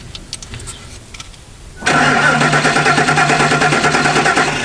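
A truck engine cranks over steadily without catching, a loud, continuous rhythmic churning that begins abruptly partway through after quieter background noise.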